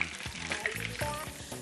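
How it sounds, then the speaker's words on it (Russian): Oil sizzles and crackles steadily in a pan as a Turkmen-style chebureki meat pastry fries, close and fairly quiet, with no talking. "я его выкладываю на сковороду"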